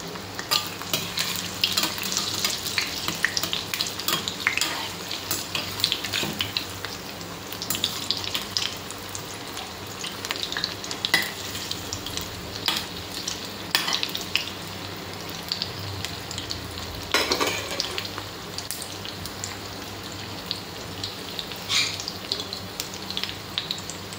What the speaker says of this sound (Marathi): गोल्डन ब्राउन कलर वरती आपण पकोडे तळून घ्यायचे आहे